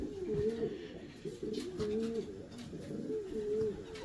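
Several racing pigeons coo in soft, rolling phrases, repeating throughout with a low, steady murmur of ambient noise behind them.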